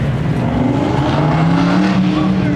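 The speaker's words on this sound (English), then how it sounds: "the LS2 making some good thunder" An LS2 V8 race car engine roars steadily and loudly throughout at an autocross, a deep thunderous drone with rising and falling revs as the throttle comes on and off, using engine braking.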